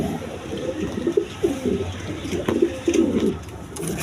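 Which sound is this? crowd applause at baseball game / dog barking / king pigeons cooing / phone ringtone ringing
king pigeons cooing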